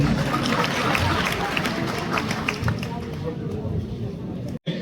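An audience at an All India Jat Mahasabha honour ceremony claps steadily to welcome a guest onto the stage. The applause is dense and sustained with crowd murmur, then cuts out sharply just before the end.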